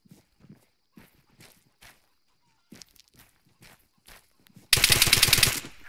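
Enemy machine gunner's rifle fire in Arma 3, a loud sustained automatic burst near the end, preceded by scattered soft footstep-like thuds.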